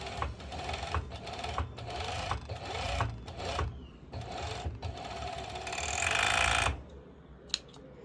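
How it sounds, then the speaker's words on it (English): A serger overlocks the edge of a ruffled mini skirt in several bursts of rapid buzzing stitching separated by short pauses, with a longer, louder run near the end and a small click after it stops. "do another stitch using my serger"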